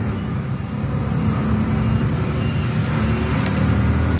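A Bajaj trimotor tricycle rolls along a road on a test drive, its engine giving a steady, close rumble with road noise throughout and no talk.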